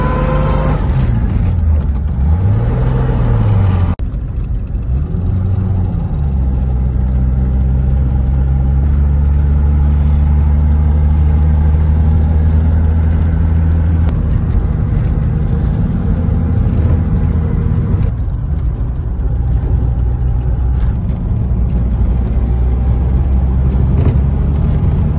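A 1937 Oldsmobile F37 Touring Sedan, kept to original specification, idles steadily on its engine with a low, continuous rumble, close and loud, its pitch rising and falling slightly during a brief rev at the start.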